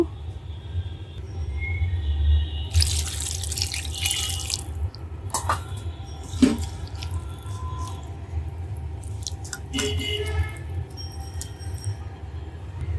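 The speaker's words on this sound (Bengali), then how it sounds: "সামান্য পরিমাণ পানি দিয়ে দিব" Water is poured from a tap or vessel into a hand-mixed fish mixture in a home kitchen, a few short splashing pours and trickles over a low background rumble, with no talking.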